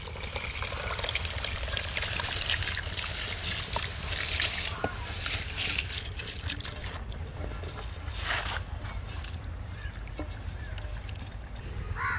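Soaked, washed rice tipped into a pot of boiling water while cooking fish dum biryani, giving a steady, close hiss of bubbling and splashing water that runs continuously throughout.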